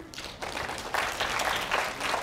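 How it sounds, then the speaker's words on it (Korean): An audience at a Korean science lecture claps, a rising burst of applause that swells after a brief quieter start and holds steadily loud. "박수"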